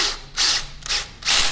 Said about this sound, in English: Put the setting on its lowest, just to drive the screws in